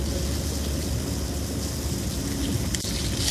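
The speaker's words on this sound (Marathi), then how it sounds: "फुल जोरदार पाऊस चालू आहे" Heavy rain pours on a car cruising at about 80 on the Samruddhi highway, a dense, steady roar of rain and road noise with no pauses.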